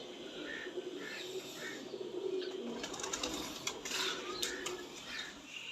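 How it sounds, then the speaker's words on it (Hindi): Pigeons cooing, two pairs of dab-marked fancy pigeons, soft repeated coos in a steady rhythm with occasional chirps and brief bursts of wing flapping. "ये 2 कबूतर है, 2 नर हैं, 2 मादी हैं।"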